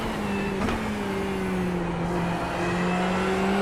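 A Ferrari GT3 race car engine in the iRacing sim holds a steady high drone, with a brief gear change near the start, then a smooth sustained tone at constant loudness with no talking.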